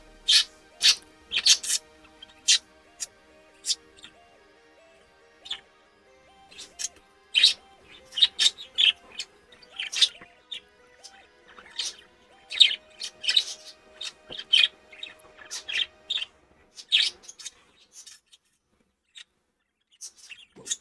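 Budgies chirp and tweet in rapid, scattered bursts throughout, bright and close, with faint sustained tones underneath and no talking.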